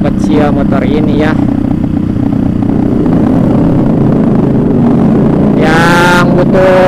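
A Suzuki Satria FU motorcycle with a small carburetor and an aftermarket automatic-scooter exhaust drones loudly and steadily while being ridden, with voices talking over the engine at the start and near the end.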